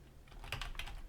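A handful of quick keystrokes tap on a computer keyboard, soft and close, a short cluster of clicks while entering text into an estimating program.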